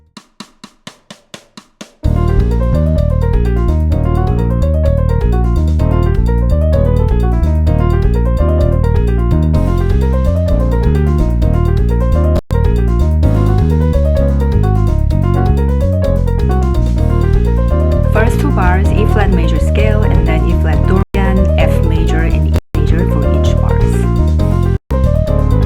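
Piano plays running scales up and down over a song's chord progression in a salsa lesson, steady and continuous after a short rhythmic lead-in, with a few clicks near the end.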